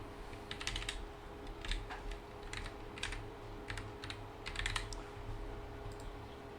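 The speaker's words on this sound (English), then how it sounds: "We'll just type in our email real quick." Someone types an email address on a computer keyboard, a few short bursts of quick, light key clicks with brief pauses between them, fairly close and quiet with no talking.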